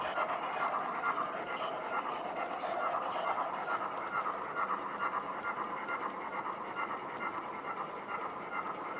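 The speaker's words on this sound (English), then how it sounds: "Branch line passenger train in the bay platform with four-wheelers, while Castle passes with a passenger train." A Castle class steam locomotive runs past with a passenger train, a steady distant rumble and rolling rail noise that holds at an even level throughout.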